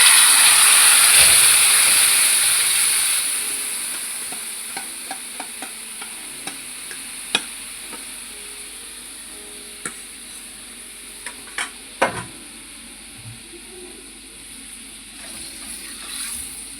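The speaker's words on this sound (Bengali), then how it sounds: "এটা আমি এবার ডিরেক্ট ঢেলে দেবো এর মধ্যে।" Yogurt-marinated fish tipped into hot oil gives a loud sizzling hiss at first that fades over a few seconds, followed by quieter crackles and scattered clicks of a pan and utensil.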